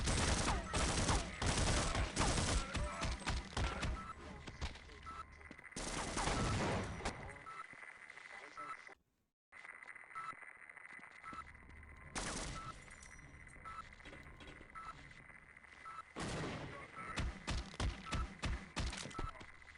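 Automated turret gunfire in the video game Half-Life comes in loud, rapid bursts, with a grenade going off amid the shooting. The firing is interrupted by a brief silence midway, then resumes in quick repeated volleys.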